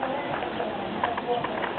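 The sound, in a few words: horse (mare) cantering, hoofbeats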